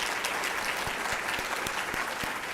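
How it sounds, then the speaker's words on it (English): An audience at a university social and emotional learning conference keynote applauds, a full, even roar of many hands clapping, with a few sharper individual claps standing out near the microphone. "Let's give them another round of applause."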